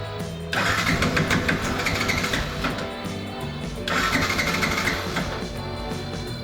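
A Yamaha FZ v2.0 motorcycle with a starting problem cranks at full throttle: the starter motor whirs and chugs in two long, loud bursts with a brief dip between them, and the engine does not catch.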